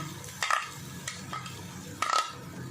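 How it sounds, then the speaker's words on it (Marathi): Ground fenugreek greens and coriander being stirred in a pan, with a few quiet scraping strokes of a spatula over a soft background sizzle, close but faint. "मेथीची भाजी आणि कोथिंबीर परतून परतून घ्यायची"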